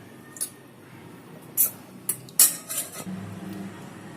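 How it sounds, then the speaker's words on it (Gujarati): Boiled drumsticks mashed in a steel pot for soup, with several sharp metallic clanks and scrapes of a utensil against the pot, spaced irregularly and close by. "સરગવાની સિંગ બફાઈ ગઈ છે, તેને આ રીતે પીસી લેવાની છે, એટલે એનો રસ નીકળી જશે બધો"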